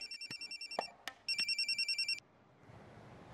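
A telephone ringtone plays two bursts of rapid electronic trilling, each a quick run of evenly spaced pulses, followed by a click and quiet room hiss.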